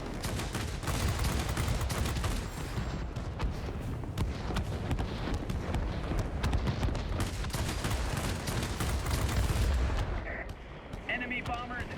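Rapid fighter cannon bursts from a Chinese Shenyang JL-1A fighter in the World of Warplanes aerial combat game, loud, dense, continuous booming gunfire over a heavy engine drone, easing off near the end.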